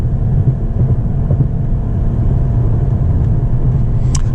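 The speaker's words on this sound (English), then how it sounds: "It does rev to the red line very quickly." A turbocharged Mercedes-AMG GT 53 engine drones steadily with a low, rumbling tone, revving quickly to redline and holding a sustained high-rev roar for several seconds without speech.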